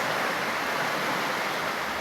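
Strong floodwater rushes through a river in Sultan Kudarat as a dense, continuous roar with no breaks, steady and fairly loud throughout.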